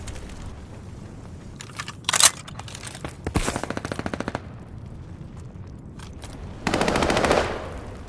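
Gunfire from a Call of Duty Vanguard ranked multiplayer match: a sharp shot near two seconds, then a rapid automatic burst, and later a dense, noisy volley, all loud against steady game background.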